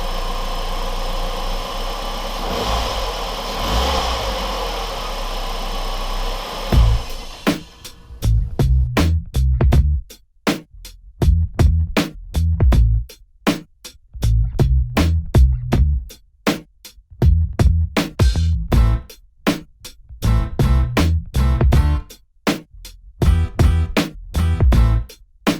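Swapped engine in a Honda Civic Hybrid, first a steady hum, then rhythmic chuffing pulses and irregular knocking bursts as it runs close up, with no talk over it.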